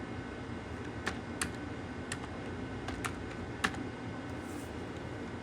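Someone keys in a barcode on a computer keyboard at a retail checkout, sparse, irregular key taps, close and clear over a steady low hum, no voices.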